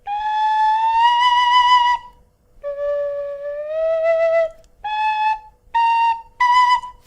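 A Clarke tin whistle plays a sustained melody of clear, bright tones, several long held notes followed by shorter separate phrases, close and loud with no talking.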